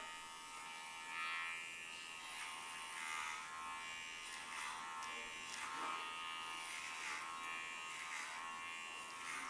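Electric hair clipper buzzing steadily as it cuts hair above the ear during a textured undercut, passed repeatedly at close range with slight swells in intensity and no talking.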